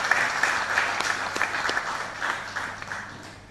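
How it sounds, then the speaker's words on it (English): Audience applause at the launch of an entrepreneurship and innovation hub in Dominica, a steady wash of many hands clapping that slowly fades over a few seconds, with no talk over it. "And I want us to applaud the efforts of Kim Osborne."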